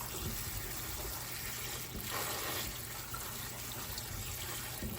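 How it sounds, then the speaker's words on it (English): Salted cabbage being rinsed under a running kitchen tap: a steady, close rush of water splashing continuously, with slight shifts as the leaves are moved, no voices. "You need to rinse all that salt off."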